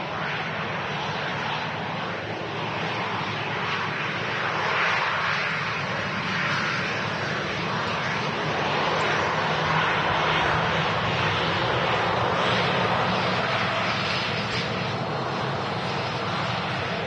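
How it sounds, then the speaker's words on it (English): A Singapore Airlines Airbus A350-900 departs runway 23 right at Manchester Airport, its jet engines producing a sustained broad roar that swells and holds steady over about seventeen seconds, heard from a distance. "Coming up, Singapore Airlines A350 900, this time departing off 23 right"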